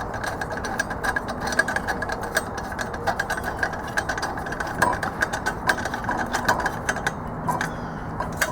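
Ratchet wrench snugging a fitting on a Coleman lantern being converted to burn kerosene, giving a steady run of close, light metallic clicks throughout.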